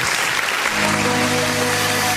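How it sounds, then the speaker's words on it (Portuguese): Steady applause from a church congregation at the end of a service, loud and even throughout, with a faint sustained tone beneath. "Vamos dar uma salva de palmas bem forte para Jesus"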